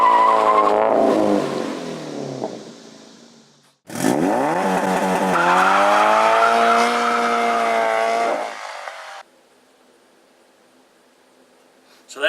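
A Toyota GT86 / Subaru BRZ with an OpenFlash tune launches hard: the engine is held at high revs, then surges and climbs through the rev range, and tires chirp before a short pause and silence.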